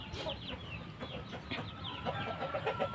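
Chickens cluck repeatedly on a Burmese chicken farm in Yogyakarta, Indonesia, a close, busy run of short clucks and calls with a hen and chicks nearby.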